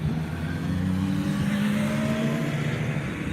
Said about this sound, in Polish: Gdzie coraz więcej sportowych motocykli wjechało.